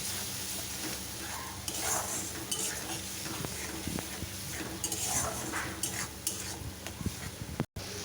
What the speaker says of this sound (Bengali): মশলাটা দিয়ে এবার আমি কষাবো।